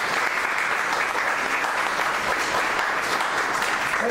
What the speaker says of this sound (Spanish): Den una ofrenda de palmas a Él